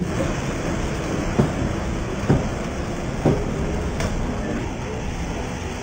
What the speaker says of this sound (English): The coast of St. Lucia shook under the onslaught of giant waves.